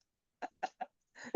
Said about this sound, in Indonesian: Ayam belago.